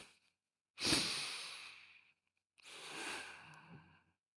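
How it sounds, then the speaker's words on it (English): A person draws in a long, deep breath and then slowly lets it out, two close, breathy swells separated by a short pause, with no talking. "just close your eyes and take in a breath"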